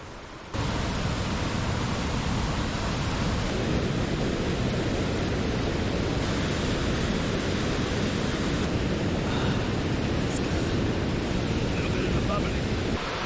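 Continuous close rush of the McKenzie River's flowing, bubbling water near its headwaters, a dense steady hiss with constant churning texture and no pauses.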